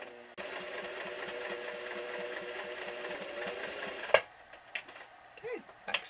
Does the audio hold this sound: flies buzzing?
no